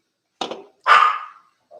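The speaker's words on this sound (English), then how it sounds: "Deja, what are you barking at, girl?" Deja, a pet dog, barks twice indoors, a shorter muffled bark followed by a louder, fuller one, with a brief faint sound trailing after and no talk over them.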